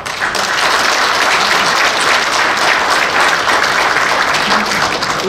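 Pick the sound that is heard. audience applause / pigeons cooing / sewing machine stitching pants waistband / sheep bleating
audience applause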